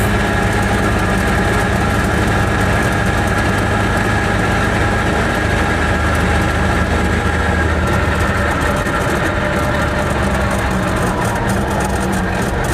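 An Invacar's small engine runs at full throttle on a road drive, a steady, loud, buzzing drone that fills the whole stretch with constant vibration and no pauses.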